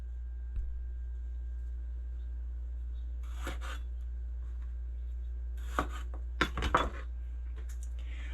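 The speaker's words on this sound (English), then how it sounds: "I'm going to slice up the tomato." A knife slices through a tomato on a board in an off-grid kitchen: a few short, crisp cuts come in a cluster, close by and fairly quiet, over a steady low hum.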